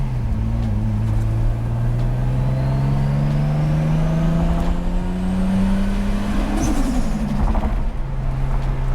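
A Nissan Skyline R33 built by Top Secret Japan cruises at highway speed, its engine drone steady and loud from inside the car, rising and falling slightly with throttle changes, with road noise beneath and no talk.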